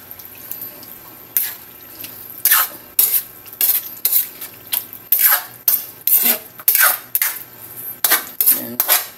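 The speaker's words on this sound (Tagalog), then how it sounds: "Haluin natin." A utensil scrapes and clinks against a pan as pork adobo with lemon and pepper gets stirred, in roughly a dozen regular rasping strokes close to the listener, with no talk.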